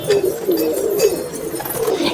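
Soft, repeated pigeon cooing in low throaty phrases, close by, over a steady background murmur with no talking.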